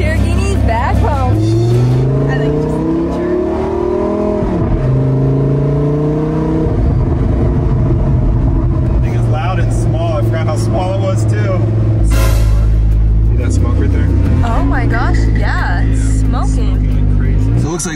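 A Lamborghini car drives with a loud engine whose revs rise and fall, alongside road noise and a brief louder burst, while people talk over it throughout.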